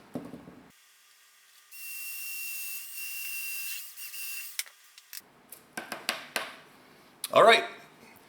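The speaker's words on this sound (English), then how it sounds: "So all I'm going to do now is utilize a drill, and I'm going to pre-drill all of the holes" A power drill pre-drilling screw holes in wood for a model Nautilus build, one sustained whirring run of about three seconds, followed by a few short taps and clicks and a brief squeak.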